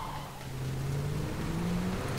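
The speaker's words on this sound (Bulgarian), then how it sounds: "Чух кола." A car engine drones steadily, its pitch rising gradually as though the vehicle is accelerating or passing, a continuous mid-level rumble with no voices.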